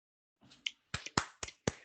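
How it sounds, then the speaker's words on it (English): A few people clap their hands as applause, about six sharp, close claps in an uneven rhythm, set against an otherwise quiet room. "This is applause, listeners."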